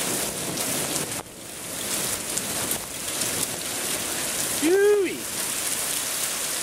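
Heavy rain pours steadily during a storm in Spain, a loud, even hiss of downpour on the ground, briefly broken by a man's short whooping yell near the end.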